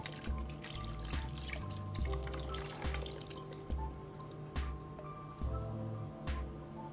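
Tomato-paste water is poured carefully over stuffed peppers (dolma) in a pot, a quiet trickling and dripping with light splashes and faint knocks, close and low in level.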